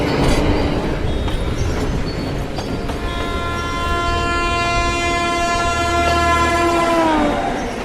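An animated horror-story train races along a haunted line, with loud rumbling wheels, clattering rails and a long sustained horn blast that drops in pitch as it ends, heard alone without voices.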